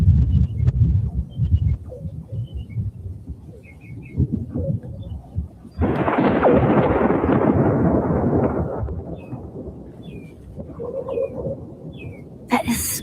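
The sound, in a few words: loud thunder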